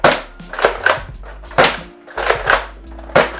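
A Buzz Bee Snipe toy blaster fires foam darts, giving a string of sharp, loud snapping pops at an irregular pace with short mechanical clicks between them.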